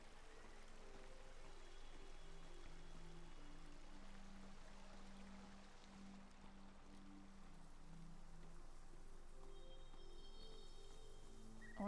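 Flowing stream water in the video game Season: A Letter to the Future makes a soft, steady rushing wash under a layer of tonal background music, with no voices.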